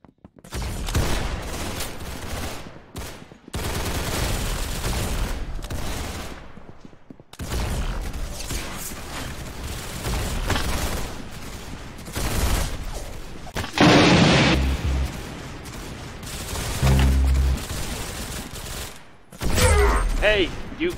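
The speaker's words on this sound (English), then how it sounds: "Very good shooting." Gunfire in the Roblox game Arsenal, dense and loud, arriving in long overlapping bursts with short gaps and a few heavier booms, mixed with game noise throughout.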